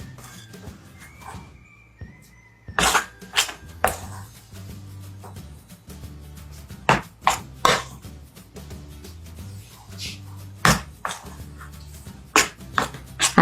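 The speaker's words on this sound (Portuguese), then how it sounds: "Agora eu vou ficar mexendo para a massa ficar um pouco mais lisa" Bread dough is stirred in a bowl: irregular knocks and soft thuds of the utensil against the bowl, spaced by quieter stretches, close and moderately loud.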